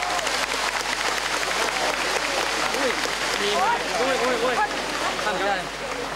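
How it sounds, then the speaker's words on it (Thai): A crowd at a Thai political rally for a government development programme applauds, the clapping loud and steady throughout, while someone talks over it through a loudspeaker. "ขอเสียงปรบมือดังๆ อีกสักครั้งครับพี่น้องครับ"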